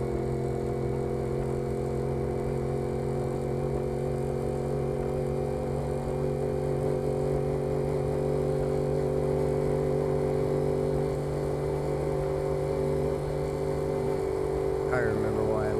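A Camaro's engine runs steadily nearby with a low, even drone and a faint rising whine near the end, while people talk over it.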